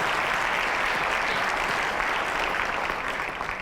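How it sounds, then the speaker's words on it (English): An audience at a college Founder's Day ceremony gives award recipients a sustained round of applause, thick, even clapping from a large crowd in a hall that holds steady, then eases slightly at the end. "Can we give another round of applause to our Candle and Benny Award recipients?"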